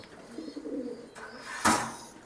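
A racing pigeon from a home loft gives soft, low cooing in a short murmuring run, followed by a sharp broadband rustle or flutter burst near the end.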